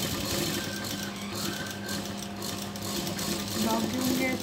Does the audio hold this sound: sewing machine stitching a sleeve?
yes